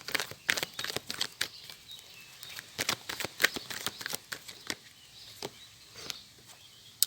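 Oracle cards being shuffled and drawn: crisp, scattered snaps and taps of card stock, fairly close and quiet, arriving in irregular clusters with no talking.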